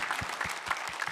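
A church congregation at a Korean Presbyterian Sunday worship service claps together in thanks, a steady wash of many hands applauding at moderate distance with no one speaking over it.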